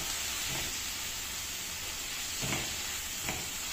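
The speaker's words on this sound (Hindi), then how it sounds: "इसके साथ ही हम डाल देंगे इसमें ये कटे हुए टमाटर और इनको मिक्स करेंगे अच्छे से" Chopped tomatoes sizzling steadily in a hot kadhai for kadhai paneer, a constant close frying hiss with a few soft stirring scrapes of a spoon breaking through, no voices.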